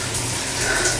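Shower water running steadily in a bathroom, a continuous broadband hiss of spray close by with no talking.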